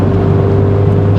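A 2022 Land Rover Defender 110 P300 X-Dynamic SE engine hums at a steady low pitch while driving, heard from inside the cabin as a loud, even drone with no revving.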